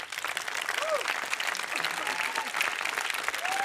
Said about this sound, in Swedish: Det är värt en applåd.